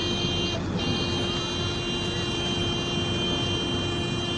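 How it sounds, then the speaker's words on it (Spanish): A vehicle horn sounds in road traffic where a bus blocks an ambulance, a sustained buzzing tone held steadily over a constant engine and traffic rumble, fairly loud and unbroken. "Toca claxon."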